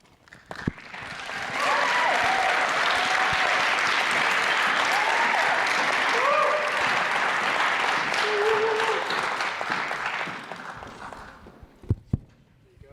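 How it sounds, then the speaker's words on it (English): Sustained audience applause after a spoken word poem at an education event, swelling in quickly and holding steady for about eight seconds before fading, with a few voices calling out over the clapping and some isolated claps trailing at the end. "One more round of applause for Ria."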